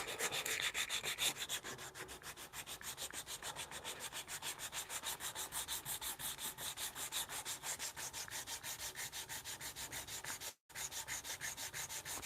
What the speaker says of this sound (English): Got this little nick in here I'm trying to kind of sand away.